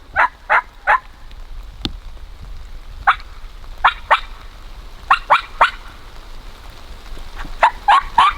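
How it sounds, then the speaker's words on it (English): A wild turkey gobbles outdoors during a turkey hunt in several sharp, rattling bursts. They come in quick clusters of two or three with pauses between, and they ring out clearly at moderate distance with no talking. "Just got a gobble"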